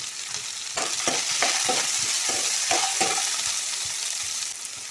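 Large onions fry and sizzle in a pan with a little spice powder, a steady close hiss broken by repeated scraping stirs of a spoon, with no talk.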